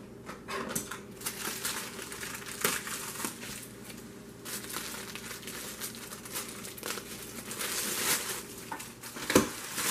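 Crinkling and crumpling vacuum-packed plastic packaging being cut open with scissors, snips and rustling, irregular handling noises close by, no talking.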